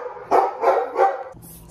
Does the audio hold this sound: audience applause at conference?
no